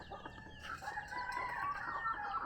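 Native chickens kept on a small farm cluck and crow close by, a busy overlapping chorus of hens and a rooster that grows slightly louder over a couple of seconds, with no talking.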